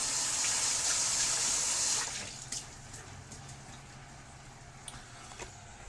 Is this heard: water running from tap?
yes